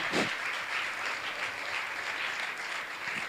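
An audience at a Jain religious gathering applauds warmly, a dense steady clapping that carries on evenly without any voices on top.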